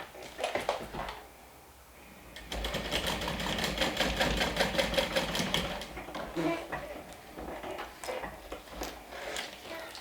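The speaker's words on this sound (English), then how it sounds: "Then we're going to top stitch the same way on the other side." A sewing machine top stitches a fabric panel, first in short bursts, then in a long steady rapid run of needle strokes with a mechanical whir, followed by a few more short stops and starts, close up in a quiet room.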